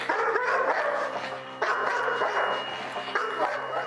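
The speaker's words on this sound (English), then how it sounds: "So that continuous barking to Gary would indicate that the dog has found somebody." A police dog barks continuously in rapid, loud bursts, with a brief pause before the barking picks up again.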